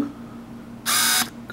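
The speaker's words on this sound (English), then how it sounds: "Come on, little autofocus." A camera's autofocus motor hunts in a short, close whirring buzz lasting under half a second, followed by a brief second burst against a quiet room background.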